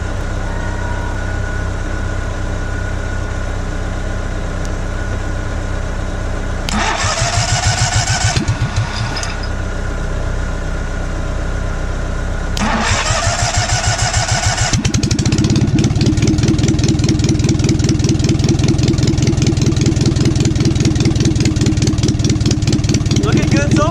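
A small engine on a machine that runs sideways cranks and coughs, struggles for fuel, falls quiet, cranks again, then catches and settles into a loud, steady, rapid idle.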